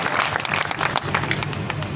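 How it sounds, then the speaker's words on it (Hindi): Audience applauds loudly at a Hindi poetry recital (kavi sammelan) in Rohtas, a sustained wash of many hands clapping over crowd murmur. "एक बार जोरदार ताली बजा करके"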